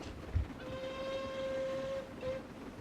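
Toy or model train engine modelled on a Scottish locomotive, giving a steady whistle-like tone for about a second and a half over rumbling track noise, with a brief second toot after.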